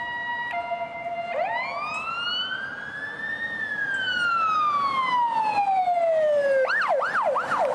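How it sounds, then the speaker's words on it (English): A Finnish emergency vehicle siren sweeps slowly up and down in long wails, then switches to a quick yelping cadence, loud and fairly close. "that siren cadence is a little more pleasing"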